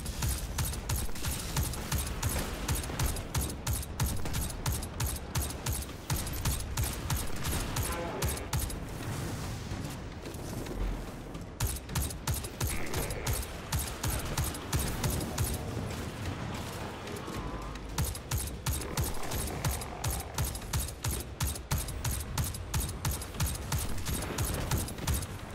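Call to Serve legendary scout rifle firing in Destiny 2, a steady rapid string of sharp, evenly spaced shots with brief pauses, loud and close throughout, with mechanical reload clicks between bursts.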